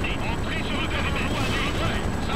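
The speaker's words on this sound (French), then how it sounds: "j'ai des hélicos russes qui larguent de l'infanterie partout" Russian helicopters from World in Conflict drop infantry on a battlefield, their rotors giving a dense, constant roar that fills the whole moment. A voice talks over it.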